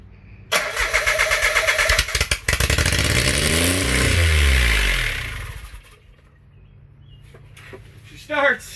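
A dune buggy being built engages its clutch and cranks its engine, which catches with a loud burst and runs roughly for a few seconds before dying away, followed by quieter room noise and a brief voice.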